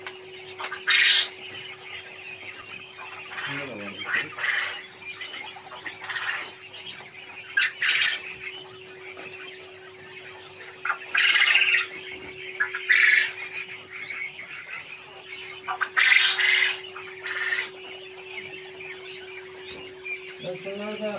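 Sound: chickens squawking on a farm

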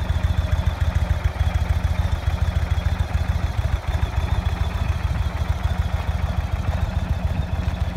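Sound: Indian motorcycle engine idling

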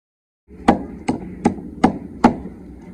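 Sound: pounding spice masala in a kunda mortar

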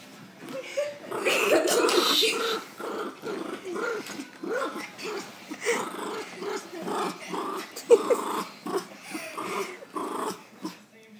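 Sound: dog growling

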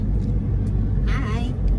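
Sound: car driving on the road

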